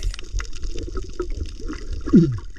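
Someone swimming in sea water, with steady close splashing and sloshing throughout and a brief louder surge of water near the end; no talking.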